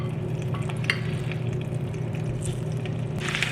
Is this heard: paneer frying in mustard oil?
yes